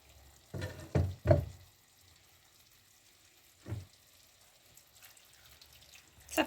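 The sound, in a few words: hot water poured into sizzling Moroccan tagine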